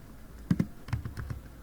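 Short burst of typing on a computer keyboard, a few quick clustered keystrokes followed by a looser run of taps, close and fairly clear with no talking.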